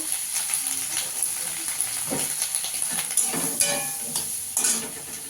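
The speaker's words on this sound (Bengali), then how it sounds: "হালকা করে ভেজে নেব। সামান্য একটু নুন দিয়ে দেবো।" Chicken pieces lightly frying in a pan with a little salt for korai chicken, giving a steady close sizzle and hiss broken by repeated scraping stirs of a utensil.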